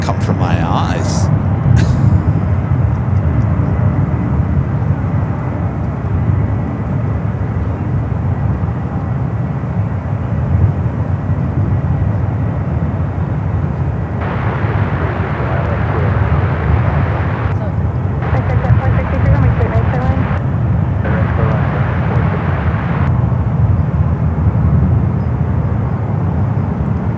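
Airliners at San Francisco's SFO, an Avianca on runway 28 left and an American arrival on 28 right, fill the air with a sustained low jet roar and rumble, while people talk over it.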